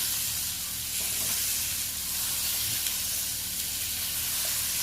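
Potatoes fry in hot oil in a pan while being browned for a curry, giving a steady, close sizzling hiss with faint stirring and no talk.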